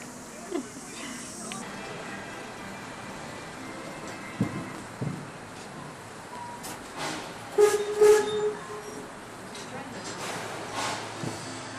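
A heritage railway train rumbling as it begins to roll, low steady mechanical noise with clanks and a few sharper knocks, a faint tonal squeal midway.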